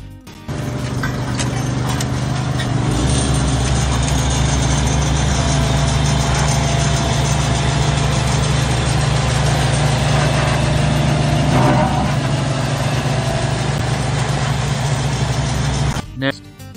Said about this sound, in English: compact the binder with a steel drum roller